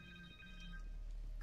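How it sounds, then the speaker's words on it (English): Cell phone ringing in the video game Spider-Man 2 on PS5, a steady electronic ringtone with sustained tonal beeps that stays clear and prominent over low background game sound. "Connor's cell phone."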